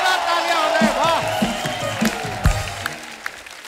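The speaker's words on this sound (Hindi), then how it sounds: "जोरदार तालियां हो रहे हैं, वाह।" A studio audience on a comedy talk show applauds and cheers as a towering wrestler guest is welcomed, a steady wash of clapping running beneath a host's excited voice and music.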